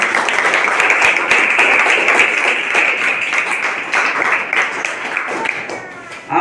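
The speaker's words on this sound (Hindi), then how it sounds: "मैं चाहूंगा एक बार जोरदार तालियों से मलिक साहब का" Students at a village school science exhibition applaud loudly, a dense sustained clatter of many hands that fades slightly near the end before a brief burst, with no speech over it.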